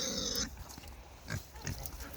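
Pigs on a thawed, muddy farm standing in deep mud give off a few low grunts and snorts, fairly quiet and close, with no talking over them.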